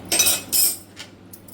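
A spoon is pushed into pressure-cooked peanuts, giving two short metallic scrapes and clinks against the pot followed by softer, fainter taps.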